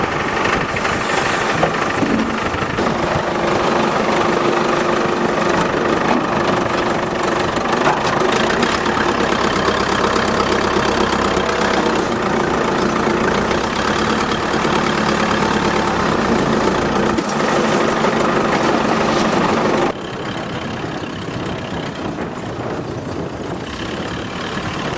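A four-wheel-drive van with a seized engine idles steadily at close range, a dense continuous mechanical hum that holds level for about twenty seconds before dropping slightly in loudness near the end.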